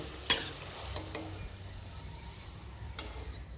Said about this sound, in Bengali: এখন ভেজে নিচ্ছি কচুরিগুলো আর দেখো প্রত্যেকটা কত সুন্দর ফুলছে